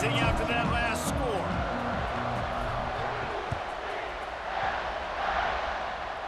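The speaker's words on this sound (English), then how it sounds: "this crowd is buzzing after that last score" Stadium crowd noise in a college football video game, UCF against LSU, a broad steady buzz of many voices after a score, with talk layered over it throughout.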